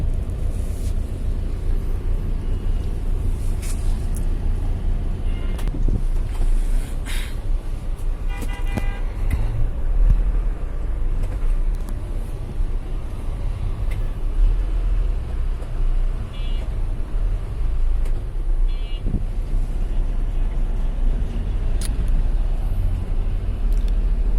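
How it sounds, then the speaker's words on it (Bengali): Bus and other vehicles moving along a rain-flooded street in Motijheel: steady engine rumble and road noise with several short horn toots scattered through, continuous and fairly loud. "একটা বাস আসছে বাট পানির মধ্যে"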